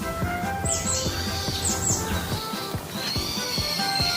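Birds chirp in quick, high tweets over a busy background of rhythmic tapping and hum, the calls recurring in short bright bursts.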